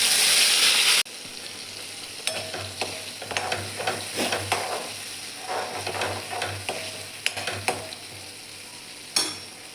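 Cumin seeds and a ground spice paste dropped into hot oil for a cluster bean dish, a close steady sizzle with repeated scraping stirs and clicks of a spoon against the pan, no voices.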